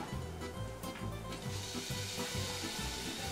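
Pork pieces hit a pan of already cooked onions and fry with a loud, dense sizzle that runs continuously, with faint stirring underneath.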